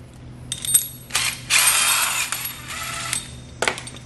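A metal nut is run onto the bolt of a foot bracket, giving a series of close, bright metallic clicks and ratcheting scrapes in short bursts, with a sustained grinding spell in the middle.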